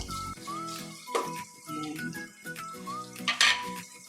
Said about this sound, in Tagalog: hugasan ko lang din po itong mga gamitan ko para di na po tayo matambakan